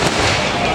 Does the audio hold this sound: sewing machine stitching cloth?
no